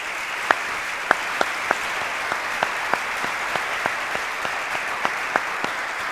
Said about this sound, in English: I want to give them a round of applause too.